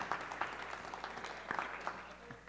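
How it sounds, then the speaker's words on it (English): Scattered audience clapping at a city census public hearing, a thin, moderately distant patter of hands with no strong crowd swell. "Let's give him another big round of applause for all the great work that he is doing"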